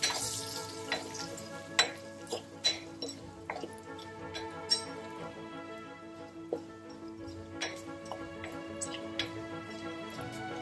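Lentils frying in oil with turmeric and asafoetida for ginger chutney, a soft steady sizzle punctuated by sharp irregular pops and crackles, some louder ones standing out.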